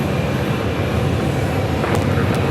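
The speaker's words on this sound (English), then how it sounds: "And pretty soon making its way in is United Airlines." A United Airlines Boeing 737 arriving from Denver at Phoenix Sky Harbor Airport gives a steady, broad jet roar, continuous and moderately loud throughout, with no voices.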